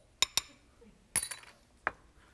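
Pork chops are tossed with flour or cornstarch in a dish beside a wok, giving a few sharp clinks of a utensil against the dish, two quick knocks followed by a rattling clatter and a final tap, close and crisp.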